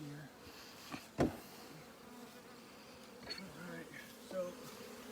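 Honey bees buzzing around an open hive during a hive inspection, a steady insect drone throughout with brief knocks and a few words of speech over it.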